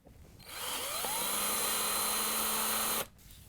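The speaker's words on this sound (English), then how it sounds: "we're going to take a number 10 drill and make these holes a little bit bigger on each side" A number 10 drill bit spins up and bores out holes in the frame of a lint filter grille for a Whirlpool, KitchenAid or Maytag dryer, one steady close whine of about two and a half seconds that stops abruptly.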